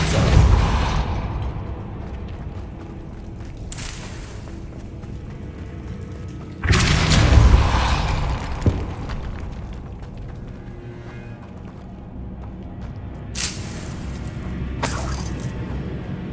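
A Confringo fire spell from Hogwarts Legacy detonates with a loud booming, shattering blast near the seven-second mark, set among other crashing spell impacts and a steady game ambience, with a second sharp burst later.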